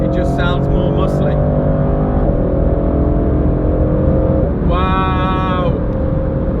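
Mercedes AMG GT Convertible with a German V8 accelerating, a loud, constant engine roar heard from inside the car, with someone talking briefly over it.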